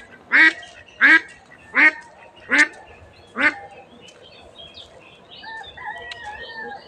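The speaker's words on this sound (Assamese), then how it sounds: "এই হাঁহৰ মাত।" Domestic ducks quacking nearby, five loud evenly spaced calls in a row, then fainter background chatter and bird sounds as the calls stop.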